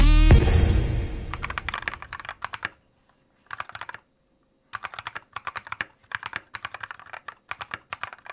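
Typing on an upgraded cheap Temu computer keyboard: after a louder opening burst, close, crisp key clicks come in quick clustered runs separated by short silent pauses.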